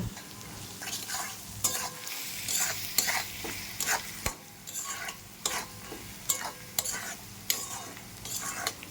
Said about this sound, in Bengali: পরিমাণ মতো লবণ, হলুদ আর ভেজে রাখা বাদামটা দিয়ে ভালো করে মিশিয়ে নেব।